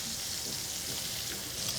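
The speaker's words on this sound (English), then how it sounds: "see how I'm frying that fish in the butter?" Petrale sole fries in browning butter in a hot pan, a steady, close, even sizzle and crackle running throughout with no voices.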